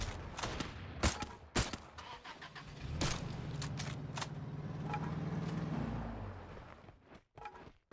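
A truck engine starts in the Free Fire video game, cranking into a steady mid-pitched rumble that holds for several seconds, surrounded by sharp gunfire-like cracks and clicks before and after.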